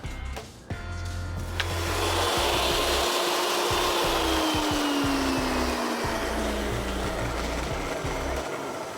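A heavy drill bores a large hole through steel with a loud, continuous grinding roar. A low motor drone pulses underneath, and a pitch sweep slowly falls as the cutter bites deeper, close up and without speech.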